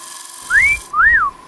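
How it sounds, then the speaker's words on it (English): A person whistles two rising-and-falling notes in a woodturning workshop, clear and close, with a steady hum in the background. "Did you just whistle"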